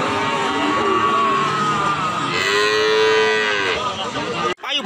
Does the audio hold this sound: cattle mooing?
yes